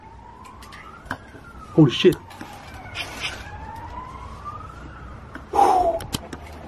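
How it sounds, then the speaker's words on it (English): An ambulance siren wails in the distance at night, its faint rising and falling tone heard from inside a house, with brief startled exclamations nearby. "Probably an ambulance."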